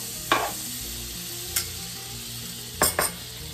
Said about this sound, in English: got my little grill pan here and I'm just gonna put just a little bit of oil